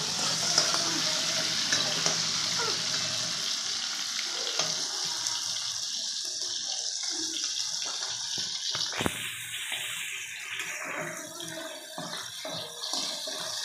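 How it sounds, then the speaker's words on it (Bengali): Prawns fry in oil in a pan for a prawn malai curry, a steady close hiss and sizzle with some stirring, briefly flaring louder and brighter partway through. "মাছটা বেশ লাল লাল করে ভেজে নেবো"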